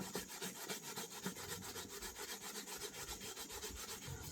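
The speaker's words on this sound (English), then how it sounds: "you have to pay attention to this when you're using this grater to grate this slippery root right here" A hand grater scrapes a slippery starchy root in steady back-and-forth strokes, a close, continuous rasping with a brisk repeating rhythm, cooked up outdoors in a backyard.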